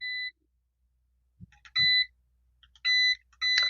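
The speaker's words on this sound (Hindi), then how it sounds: "मल्टीमीटर को ऑन कर लेता हूँ।" Digital multimeter being switched on for adapter repair, giving short, clean electronic beeps: a brief tone, then a few more spaced bursts with small clicks between, close and fairly loud against near silence.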